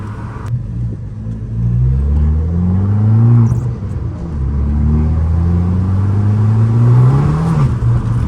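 A stage 1+ tuned Abarth 500 engine idles and warms up, then revs in repeated rising and falling swells, a deep close rumble with a brief sharp click near the start.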